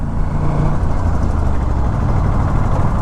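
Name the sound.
motorcycle engine with GPR titanium full system exhaust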